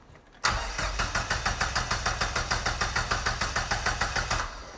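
A 1985 Dodge minivan fitted with an SRT4 turbo engine cranks over in a fast, even, rhythmic chugging that starts abruptly, stays loud and close, and keeps cranking without catching before easing off at the end.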